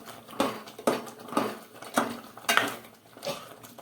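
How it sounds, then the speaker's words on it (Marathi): A spoon stirs soya chunks through a boiling curry in a pot, giving six evenly spaced scraping clinks close by with no talk. "आणि चांगलं हलवून घेऊया."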